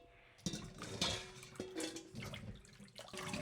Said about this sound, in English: Now we're gonna do the strawberries, and those are organic strawberries, so I usually just water.